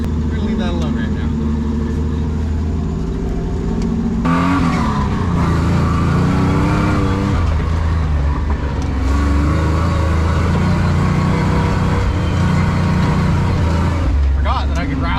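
An off-road rig's engine drives hard up a driveway, a loud, continuous engine roar that rises and shifts in pitch as it climbs, with some tire scrabble and voices talking over it.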